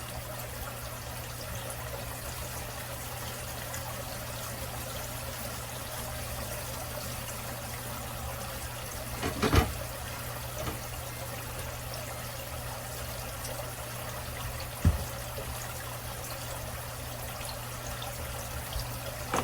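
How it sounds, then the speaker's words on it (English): Steady running water from a kitchen tap as hands are washed, a continuous soft hiss with faint low hum beneath and one or two small clunks partway through, close by and without speech. "Let me wash my hands."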